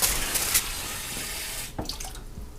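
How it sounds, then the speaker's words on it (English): Water pours steadily into a pressure cooker, a close, continuous rushing stream that cuts off partway through, followed by a few clinks and drips. "I'm going to add 2 cups of water to the pressure cooker."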